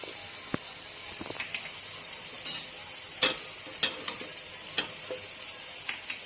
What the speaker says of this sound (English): Then when oil is hot, we will add in some hing.